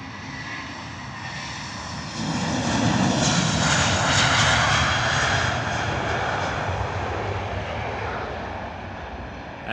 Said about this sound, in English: British Airways 320 are rolling off to Madrid